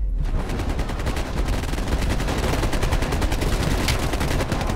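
Rapid, continuous automatic gunfire crackles without pause in a Call of Duty: Black Ops Cold War campaign mission played on PlayStation 5. The dense, loud bursts come from all sides, with no talk.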